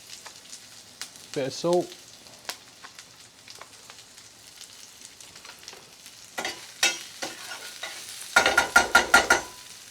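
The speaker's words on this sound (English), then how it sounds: "Then we throw in our bhindi." Okra frying in a pan for bhindi bhaji, soft sizzling with scattered stirring clatters and a burst of sharp scraping taps near the end, while someone briefly speaks.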